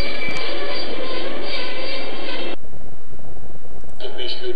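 International express train 140 Beskyd at Čadca station, a loud broadband rumble of rolling rail cars that suddenly drops away, then briefly returns with hissing noise.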